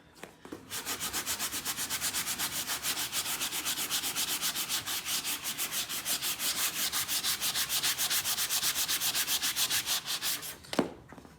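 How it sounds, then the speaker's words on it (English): Fine sandpaper rubs foam off a Volvo S60 R dashboard in rapid, steady back-and-forth strokes for about ten seconds, close and even, followed by one sharp scrape. "This is a pretty fine sandpaper, so it's not working as well as it could."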